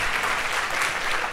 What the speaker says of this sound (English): Please give an applause to welcome him.